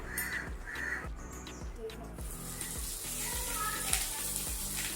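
Fish frying in a miniature pan makes a soft sizzle that grows fuller in the second half, with crows cawing nearby throughout.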